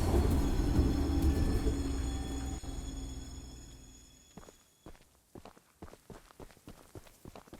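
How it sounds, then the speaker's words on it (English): In the Choo Choo Charles video game, a train rumbles loudly and winds down to a stop, its low roar fading over several seconds, followed by a run of distinct footsteps. "And stop the train!"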